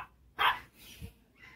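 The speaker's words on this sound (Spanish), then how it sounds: "Sí, una perra me está reclamando." A female dog barks once sharply at close range, followed by a softer, lower yip and a faint further bark trailing off.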